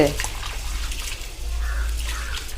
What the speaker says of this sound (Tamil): இப்போ தண்ணி ஊற்றி நல்லா கழுவிட்டு ஊற வச்சிடலாம்